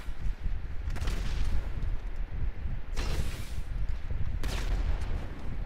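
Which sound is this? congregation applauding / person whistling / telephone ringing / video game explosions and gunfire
video game explosions and gunfire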